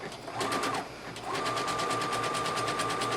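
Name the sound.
sewing machine sewing a zigzag stitch along a seam edge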